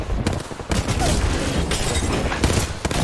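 Rapid, loud bursts of close automatic gunfire from a new gun in an Apex Legends ranked match, firing almost without pause in sharp, repeated volleys that fill the whole moment.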